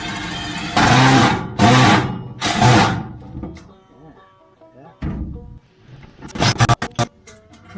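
A power driver sinks screws through existing holes into the metal body of a 1950s Philco fridge being turned into a rat rod trailer, with three loud whirring bursts followed by softer clicks and a cluster of sharp taps near the end.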